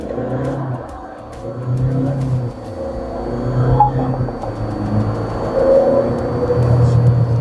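A Great Wall Motors Tank 300 diesel SUV engine revs and pulls hard in an acceleration test, rising in pitch through a few quick gear changes, loud and close, steady throughout.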